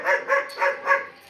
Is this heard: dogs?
yes